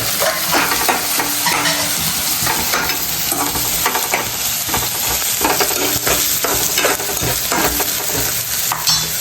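Onions sizzle steadily in a hot pan with frequent stirring scrapes and a few metallic clinks, loud and continuous throughout with no talking.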